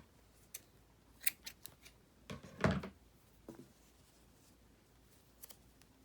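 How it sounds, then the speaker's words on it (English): Scissors snip through crochet yarn in a few quiet, close cuts, with one sharper, louder snip in the middle and soft handling sounds around it. "Snip our yarn."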